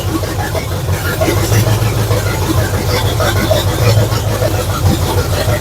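A car engine fires and settles into a steady, rough idle just after a new distributor is installed, a continuous low rumble heard up close throughout.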